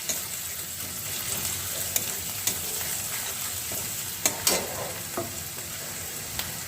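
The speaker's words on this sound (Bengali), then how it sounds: "এবার আমি রসুনটাকে দিয়ে দিচ্ছি, এটাকে আমি ভালো করে একটু ভেজে নেব" Garlic frying in a pan makes a steady, moderate sizzle, broken by sharp scrapes and clicks as a utensil stirs it now and then; no one speaks.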